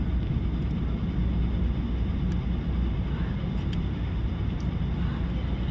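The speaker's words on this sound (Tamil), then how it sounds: "ராசல் கைமாவில் ஃப்ளைட் லேண்ட் ஆயிடுச்சு" Airplane landing at Ras Al Khaimah, a steady, loud, low engine and rumble roar that holds evenly throughout, with faint brief higher clicks on top and no speech.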